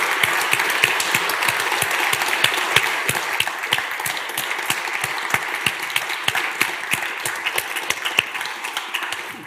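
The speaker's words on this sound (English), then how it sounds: "If everyone could join me in giving Krishnan a round of applause." Steady, dense audience applause fills a Cambridge Union debating hall, a thick continuous patter of many hands at even loudness throughout with no voices on top.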